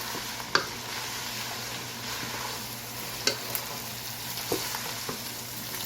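Seafood pasta is stirred in a hot pan, giving a steady low sizzle of frying broken by a few sharp clinks and scrapes of the utensil against the pan, with no voices.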